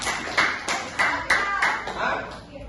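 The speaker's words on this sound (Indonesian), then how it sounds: "Tepuk tangan dulu." A class applauding in a classroom, with about five rhythmic bursts of group clapping at a steady pace, loud and close, overlapped by voices.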